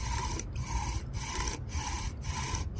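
Wooden bow drill spindle rubbing hard against a wooden fireboard for a friction fire, a loud rasping back-and-forth stroke repeating about every half second in slow, full bow lengths, close up.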